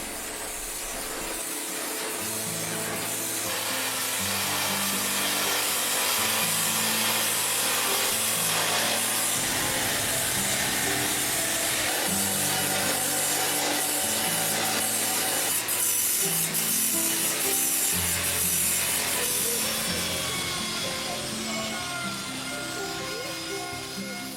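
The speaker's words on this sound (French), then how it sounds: "Le débitage en planche est l'élément de base de la fabrication de meubles." Wood logs being sawn into planks for furniture making in a Vietnamese workshop, a continuous loud grinding rasp that runs unbroken throughout with a steady rhythmic pulse.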